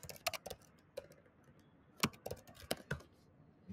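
Bursts of computer keyboard typing, keys clattering in quick irregular clusters with short pauses between, close and fairly clear, no talking.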